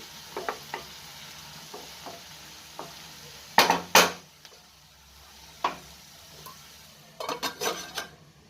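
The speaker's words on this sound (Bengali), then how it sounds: "আর একটা কাঁচা লঙ্কা থেকে আর একটু নাড়াচাড়া করে মিশিয়ে দেবো সঙ্গে" Potato and capsicum curry with green chili and ginger gets stirred in a pan, quiet background sizzle punctuated by scattered spatula taps and a few loud metallic scrapes against the pan, no speech.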